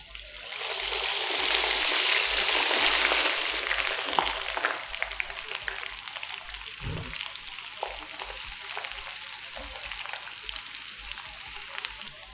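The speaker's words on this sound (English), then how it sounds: "About 30 seconds in the oil and our French fries are done" French fries cut from Indian potatoes drop into oil heated above 200 degrees Celsius and erupt in a loud, steady close sizzle that slowly settles into lighter crackling and popping bubbles.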